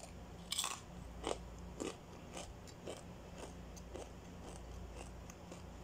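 Crisp fried spinach-leaf chips bitten and chewed close to the mic, a series of sharp crunches followed by softer crackly chewing, repeated at irregular intervals with no speech.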